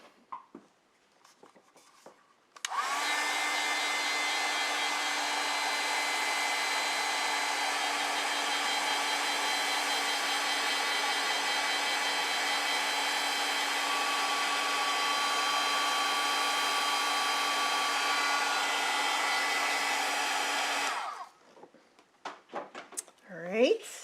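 A hair dryer blows steadily on acrylic paint for nearly twenty seconds, a loud, even whir with a whining tone that switches on abruptly and cuts off, followed by faint handling noises.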